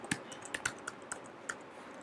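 Light, quick clicking of keys on a computer keyboard as login credentials are entered, about eight soft taps in an uneven rhythm, close and faint with nothing else over them.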